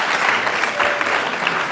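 Steady applause from a crowd, clapping continuously and fairly loud throughout with no voices standing out.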